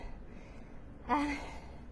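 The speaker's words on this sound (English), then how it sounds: "Can you hear my breathing?" A single quick, breathy inhale or gasp close to the microphone while stencil-painting a door mat, brief and soft against a quiet background.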